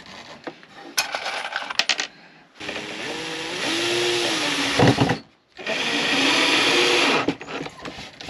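A power tool drives screws into wood in two whirring bursts of a few seconds each, separated by brief pauses, with small clicks and rattles before the first burst.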